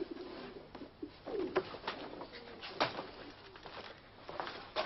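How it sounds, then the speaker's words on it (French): A caged turtle dove coos in a few soft, scattered phrases in an indoor scene from the 1981 film L'Oiseau Bleu, faint and thin against a low background hiss, with no talking. "Mais c'est ma tourterelle."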